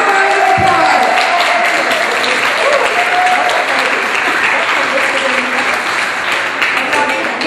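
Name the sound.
audience applause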